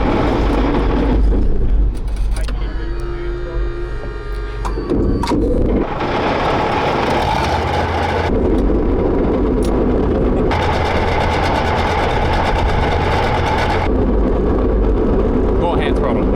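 A T-72 or Leopard I main battle tank cranks and fires up, first a rough mechanical clatter, then a heavy, loud diesel roar that settles into a sustained rumble, with people talking over the noise.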